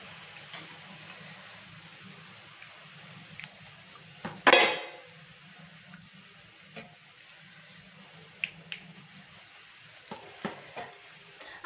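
Fried kothimbir vadi lifted from hot oil onto a steel plate: a steady low hiss with one loud clattering scrape midway and scattered small clinks of utensil on metal, close, no voices.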